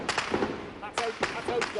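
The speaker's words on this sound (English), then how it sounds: "There's loud bangs. There's artillery fire. There are mortars." Artillery and gunfire from a street battle in Tripoli, heard as several sharp, heavy bangs spaced irregularly over a rough, reverberant city background, with voices faintly underneath.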